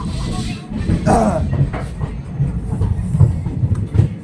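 A sleeper-class train runs between Ayodhya and Prayagraj in light rain, rolling along the rails with a steady rumble and rhythmic clickety-clack, close and fairly loud.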